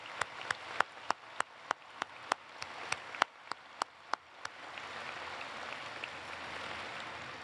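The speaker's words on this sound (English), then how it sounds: "I think that deserves a round of applause." Sparse individual claps ring out at a commencement ceremony, a dozen or so sharp, evenly spaced hits from a few people before a soft, diffuse crowd wash takes over, fairly quiet and distant.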